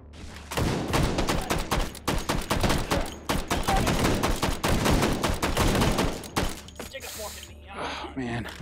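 Rapid gunfire from the SPOS 12 and other weapons in the VR shooter Hot Dogs, Horseshoes & Hand Grenades, Take And Hold mode: dense, continuous volleys of loud sharp shots over several seconds, easing briefly near the end.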